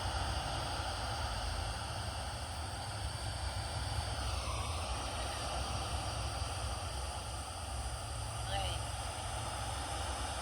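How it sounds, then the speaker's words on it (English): A fixed-wing airplane flies overhead near an old jail cemetery, its faint, steady engine drone forming a broad, continuous rumble under the quiet outdoor air. "Plane just went overhead."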